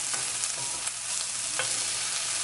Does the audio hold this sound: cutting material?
no